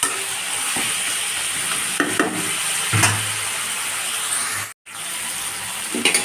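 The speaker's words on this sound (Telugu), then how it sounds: "ఒక 2 minutes ఇలా ఫ్రై చేద్దామండి" Chicken pieces fry in a hot pan for a curry, a constant sizzle broken by scraping stirs and occasional spatula knocks against the pan, with a brief silent gap near the end.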